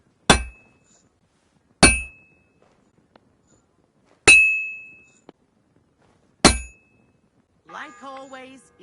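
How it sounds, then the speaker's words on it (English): Four loud, ringing metal clangs of a hammer striking at a forge in Kingdom Come: Deliverance II, spaced a couple of seconds apart with long decaying rings, followed by a brief snatch of speech. "I have to hammer it more evenly."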